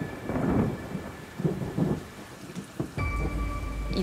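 Heavy rain pours steadily with rolling thunder rumbling through it, a sharp thunderclap breaking in near the end, a stormy downpour with no voices.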